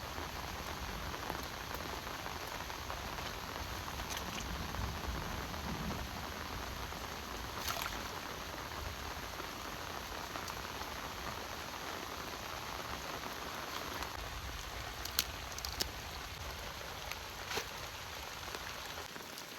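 Light rain pattering steadily at a farm at night, a soft continuous hiss with occasional louder drips, faint and even throughout.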